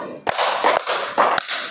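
The 'clap four' step of a numbered group clapping pattern: three crisp hand claps at roughly even intervals over continuous, hissy background noise.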